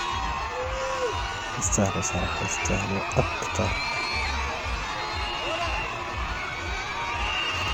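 A festive crowd in Madagascar welcoming home the Madagascar national team, with a steady din of cheering, whoops and shouting throughout, several brief louder bursts, and someone talking over it.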